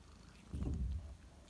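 A brief, low rumbling purr from a black kitten close up, rising for about half a second then fading into quiet.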